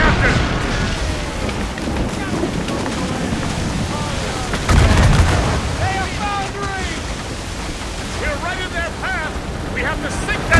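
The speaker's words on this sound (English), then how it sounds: "They're firing mortars!" Mortar fire booming amid a naval battle in Assassin's Creed Rogue, with a heavy blast near the middle over ocean waves, wind and shouting crew voices.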